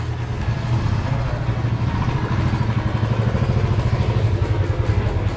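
A Royal Enfield Classic motorcycle runs close by with a steady, loud engine rumble that holds throughout, with no talk.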